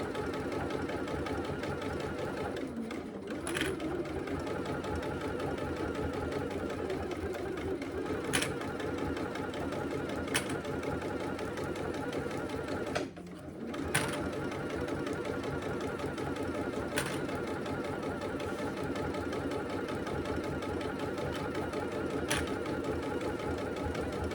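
A sewing machine stitches a fabric hobo bag at its longest stitch length, a steady close mechanical whir running continuously with two brief pauses and occasional soft clicks.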